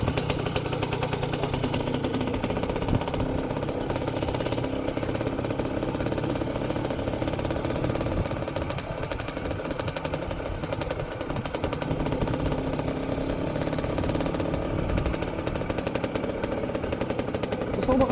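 A motorcycle engine idling close by, a steady continuous rumbling putter that holds at an even level throughout with no revving.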